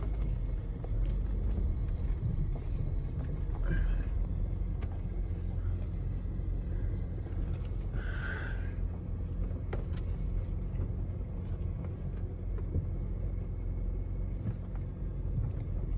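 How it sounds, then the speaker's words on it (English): Party bus being towed along a road, heard as a steady low rumble of vehicle and road noise that stays fairly faint and continuous, with a few brief clanks. "The bus is off the side of the road and it's in motion"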